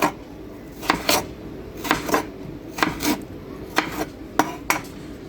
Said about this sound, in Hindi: तो अभी इसकी कटिंग करेंगे चिप्स स्टाइल में।